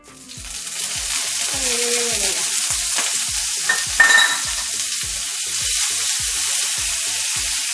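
Curry leaves crackle and sizzle as they hit hot ground masala with onions and sesame seeds in a pan, a loud close spitting fry with regular rhythmic pulses and a brief metallic clink midway.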